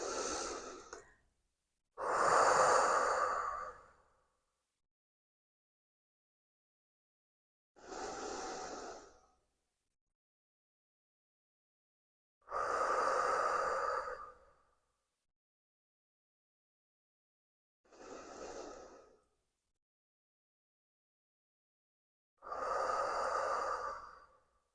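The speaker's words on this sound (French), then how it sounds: "3 respirations." Three slow, deep breaths taken during a guided breathing exercise: six separate breathing sounds, an inhale and a long exhale for each breath, with silent pauses between them. They sound close and soft, and no one speaks.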